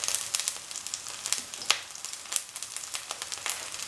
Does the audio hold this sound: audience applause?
no